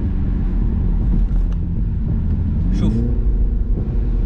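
A 2021 BMW Z4 20i engine accelerates with a loud, low droning rumble that rises through the gears, with a shift partway through, while someone talks over it in a windy cabin.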